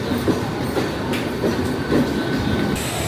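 Mumbai local train running with steady clickety-clack of wheels over rail joints and a continuous rumbling hum, close and fairly loud, no voices.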